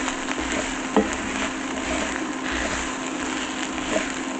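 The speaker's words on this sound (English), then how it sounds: "going to give that a good stir" Vegan beefless mince being stirred in a hot pan, a steady sizzle with scraping spoon strokes, close and alone without talk.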